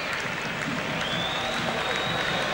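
A cricket crowd roars and applauds steadily after a shot races away for four at a South Africa versus England Test match in 1999, a dense, continuous wash of cheering with no let-up.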